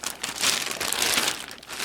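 A plastic zipper bag crinkles and rustles as 3D printer filament is packed into it for sealed storage, making a close, continuous crackling with a few louder crunches.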